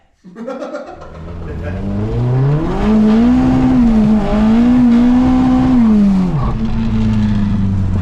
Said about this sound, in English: Let's go for a little road test up the link road